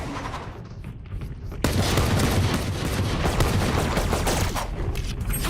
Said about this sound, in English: As I started shooting the Reyna, you could see a blue glow on her